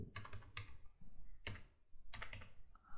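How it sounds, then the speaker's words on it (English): Computer keyboard keys clatter in short irregular clusters of clicks, close and fairly quiet, as an IP address is typed into a configuration file; no speech. "I will type the IP address."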